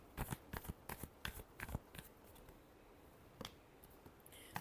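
Tarot cards being shuffled close up: a rapid run of crisp riffling snaps and flicks, a short pause, then a few more shuffles, quiet and without talking.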